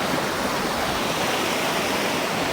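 A steady, loud rush of falling water at Devarakona waterfalls roars without a break, dense and close, with no voices.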